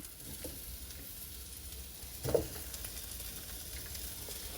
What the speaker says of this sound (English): I'm just going to saute these onions, maybe brownitate them a little bit.